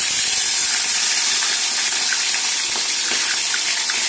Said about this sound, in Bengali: মাছগুলো আমি এক এক করে ভেজে নেব।